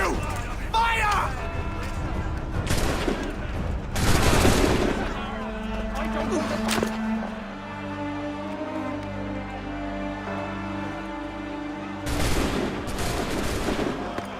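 Musket volleys in Assassin's Creed III, several loud bursts of massed gunfire cracking out in separate waves with ringing tails between, mixed with shouting voices and battle noise.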